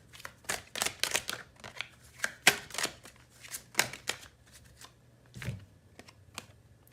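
Tarot cards being shuffled by hand, with quick crisp riffles and flicks in uneven clusters, close and fairly quiet.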